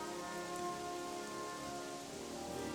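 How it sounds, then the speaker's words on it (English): Steady rain hisses in the video game Gothic 3, a dense even patter over low tonal ambience, constant and fairly quiet throughout with no talking. "Oh, now it's raining."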